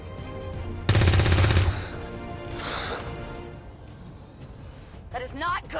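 Gunfire from the XCOM 2 Long War 2 video game arrives as a sudden loud, dense burst lasting under a second, followed by quieter game effects, with someone talking over the action.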